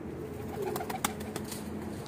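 Pigeons kept by a fancier cooing softly under a low background hum, with a few brief flutters or clicks nearby.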